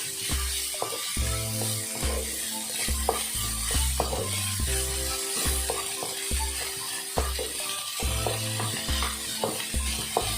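Boiled eggs get stirred into a sizzling pan, rhythmic scraping strokes over a continuous frying hiss, close and steady, with no voices.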